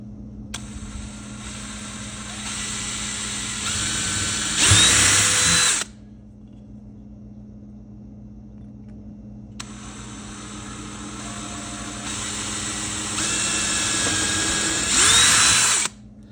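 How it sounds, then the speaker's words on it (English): Small drill bit boring through an old Camillus Barlow knife handle, two steady whining power-drill runs of about five seconds each, each ending in a brief louder burst, separated by a quiet pause. "First I'm gonna drill with this smaller drill bit, and then we'll drill from the other side with a larger drill"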